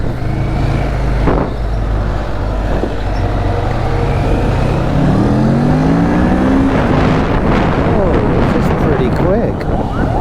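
A 2019 Kawasaki Ninja 650 twin-cylinder motorcycle accelerating in traffic, its engine note rising steadily and loudly from close by as it pulls away, with wind noise throughout.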